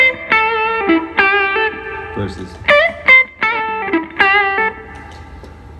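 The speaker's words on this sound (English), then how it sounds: "the other foot switch on this pedal does reverb" An electric guitar played through a pedal's reverb setting rings out in short bursts of sustained, effect-colored notes with ringing tails, separated by brief gaps; a voice speaks a single word in between.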